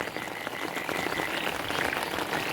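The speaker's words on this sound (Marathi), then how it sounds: "आता पाऊस एवढा लागतोय" Heavy early monsoon rain in the Konkan pours down in a dense, continuous patter of drops hitting surfaces, steady and close with no voices.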